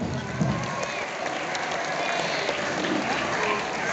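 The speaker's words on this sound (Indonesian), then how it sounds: "Tepuk tangannya dulu dong." Students and teachers at a school OSIS student council election clap together in a hall, a dense steady patter of many hands with some crowd murmur underneath, fairly loud and continuous.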